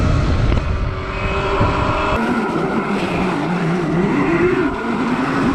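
An electric dirt bike, powered by an 80-volt lawnmower battery, whines loudly and steadily on a ride, its motor pitch rising and falling with throttle over rushing wind noise.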